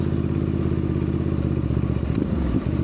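Ducati DesertX motorcycle ridden off-road over grassy terrain at an adventure camp, its engine a steady loud rumble throughout with some clatter and thumps from the rough ground near the end.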